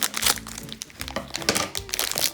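A plastic bag around a small collectible figure is snipped open and crinkled by hand, giving close, irregular crackling bursts in quick succession.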